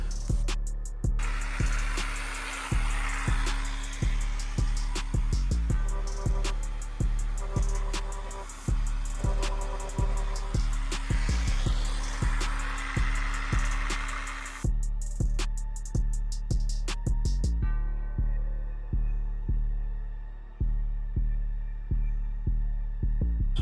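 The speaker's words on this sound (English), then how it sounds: "Just grab a electric pump, which I had one, working with the simple battery. This is for the drain." A small battery-powered electric pump draws a mix of oil and coolant out of an Audi A6 engine. It gives a steady hum with regular throbbing pulses, close by and with no talk; the pulses change tone partway through.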